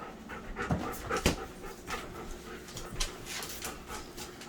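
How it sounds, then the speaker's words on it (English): Three dogs pant rapidly and steadily in a home kitchen, close and fairly soft, with a few sharper breaths and light movement noises. "Definitely having 3 dogs in the kitchen makes the kitchen feel smaller."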